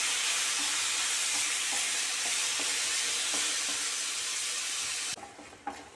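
Tomatoes sautéing in a pan with chili, turmeric and coriander powder give off a loud, steady sizzle and hiss that runs unbroken, then drops away abruptly near the end, leaving faint clinks.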